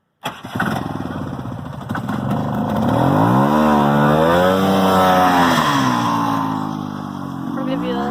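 A 1973 Arctic Cat Lynx snowmobile starts with a sharp catch, then its two-stroke engine is floored and climbs into a loud, close, wavering high-revving whine that holds for several seconds before easing slightly.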